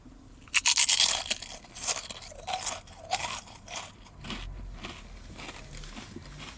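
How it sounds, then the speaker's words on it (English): A crunchy, folded snack is bitten and chewed right at the microphone while winter camping, with a loud burst of crisp crunches at the start and then quieter, uneven chewing and crackling. "Listen to that crunch, man."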